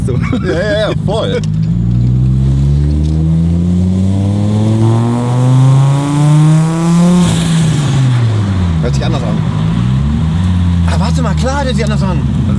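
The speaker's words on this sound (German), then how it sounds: "Ich habe also das Gefühl, der Turbo hört sich anders an." Turbocharged Audi A4 B5 engine revving hard while driving, rising and falling through the gears with loud, sweeping pitch climbs and a brief drop midway, people talking over it inside the car.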